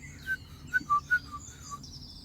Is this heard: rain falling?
no